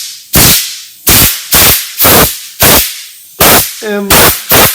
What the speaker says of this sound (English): pull your air filter out, and simply take an air compressor